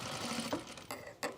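A sewing machine stitches pants fabric near the elastic, a steady close mechanical whir with a few short bursts of faster stitching.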